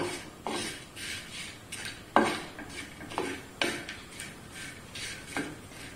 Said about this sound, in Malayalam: ആദ്യം നമുക്ക് ഉണക്കച്ചെമ്മീൻ ഇട്ടിട്ട് ഒന്ന് വറുത്തെടുക്കാം.